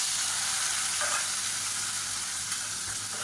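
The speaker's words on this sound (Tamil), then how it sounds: "உருளைக்கிழங்கு சேர்த்துட்டு ஒரு ரெண்டு நிமிஷம் நல்லா சுருண்டு வர அளவுக்கு வறுத்துக்கலாம்" Boiled potatoes frying in a pan with garlic and asafoetida give a steady, close sizzle with faint stirring scrapes, continuous and without any talking.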